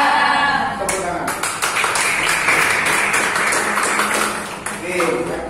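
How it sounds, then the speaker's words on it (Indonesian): A classroom group bursts into applause, dense overlapping clapping that stays loud and steady for several seconds before easing slightly near the end. "Tepuk tangan."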